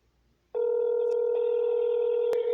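A telephone dial tone starts abruptly after a moment of quiet and holds as a loud, steady, close tone while a call is being placed.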